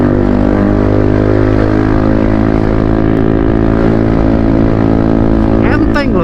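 A Yamaha Aerox scooter fitted with a Krace Ultra exhaust pulls hard uphill, its engine droning loud and steady with dense harmonics throughout, briefly joined near the end by a rising whine.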